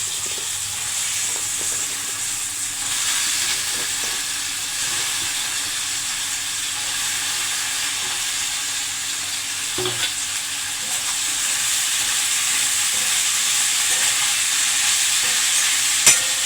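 Shelled, washed broad beans go into a hot pan over fried ginger-garlic paste for a curry and are stirred, making a long, steady, loud sizzle and hiss with occasional scrapes and a clink near the end.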